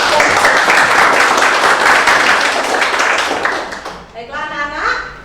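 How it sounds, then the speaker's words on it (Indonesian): A classroom of students breaks into loud, dense applause after a presentation, the clapping sustained for about four seconds before fading as a voice begins speaking over the end. "Sekian dan Tepuk tangan."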